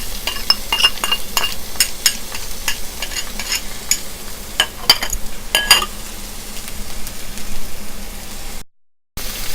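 Chopped onions frying in two tablespoons of olive oil, a steady close sizzle broken by sharp clinks of a utensil stirring against the pan, cut off briefly by a silent gap near the end.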